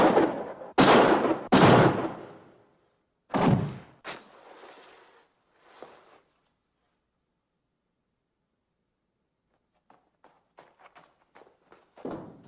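Gunshots in a 1955 western film: two loud, sharp blasts close together open the scene, followed by a third shot and a fading echo, then near silence and a scatter of soft footsteps.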